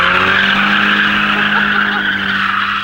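A stock Nissan 240 drifting, its tires skidding in a loud, continuous squeal over a steady engine drone, sustained close up for the whole stretch.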